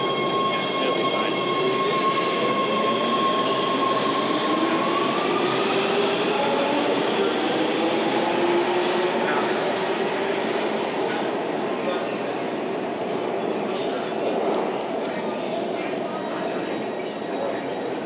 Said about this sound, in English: I hate waiting on this fucking train.